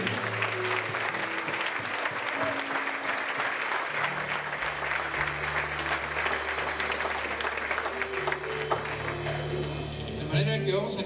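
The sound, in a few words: applause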